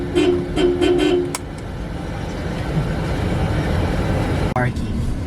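A Toyota Rush car horn honking in a short series of toots on a busy street, loud and close, followed by engine and traffic rumble.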